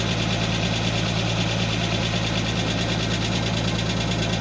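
A 1991 Mercedes 190E engine idles steadily with a ticking lifter fault, a continuous even mechanical drone with a fine rapid tick, heard close and alone.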